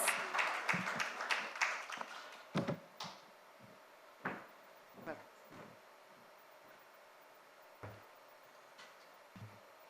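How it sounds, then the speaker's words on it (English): A round of applause at an evening ceremony welcomes a guest onto the dais: a dense burst of clapping at first, thinning into scattered claps, quiet and somewhat distant. "Let's welcome him onto the dais with a round of applause"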